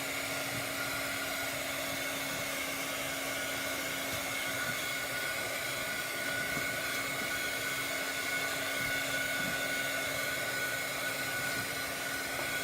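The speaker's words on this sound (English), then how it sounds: "I'm going to blow dry this a little bit." A hair dryer blows continuously and close up over a wet silk screen for several seconds, a constant steady roar with a faint hum beneath and nobody speaking.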